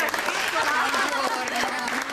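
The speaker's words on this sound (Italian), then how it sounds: "Un applauso al nuovo vice direttore!" A studio audience applauds on an Italian live television talk show, a dense steady wash of clapping with cheering voices mixed in throughout.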